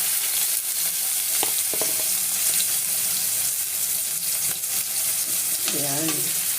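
Steady loud sizzling of ingredients sautéing in a pot for pork sinigang, with scraping stir sounds and a brief voice near the end.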